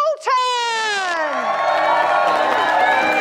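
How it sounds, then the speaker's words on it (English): Wedding guests whoop, holler and cheer for newlyweds Meg and Dave as they are introduced as Mr and Mrs Poulton: a rising crowd roar with a sharp whoop at the start, building into sustained loud cheering. "with a whoop, a holler and a cheer, greet of Mr and Mrs"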